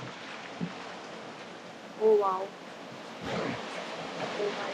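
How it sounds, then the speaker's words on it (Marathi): River water flows beneath a village bridge near Pune as a faint, even rushing wash, with a brief exclamation from a voice over it. "हा ब्रिज आहे इकडे असा आणि खालून पाणी वाहते भरपूर"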